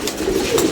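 A pigeon gives a brief, close, throaty coo, a single short rolling phrase.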